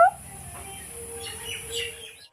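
A pet bird gives a short, close burst of chirping calls, bright and fairly loud, with no one speaking.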